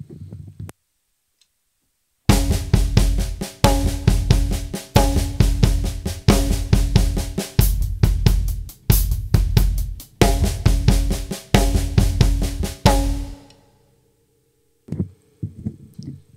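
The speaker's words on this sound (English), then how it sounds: "So the paradiddle-diddle with the right foot sounds like this." A paradiddle-diddle pattern on a drum kit, with the right foot working the kick: fast, loud bursts of repeated strokes come in tight, evenly grouped phrases, followed by a few sparse hits after a short gap.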